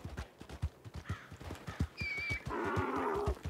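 In Red Dead Redemption 2, a horse's hooves clip-clop in a steady, close rhythm while the horse lets out a loud, shrill whinny partway through, and the hoofbeats keep going under it.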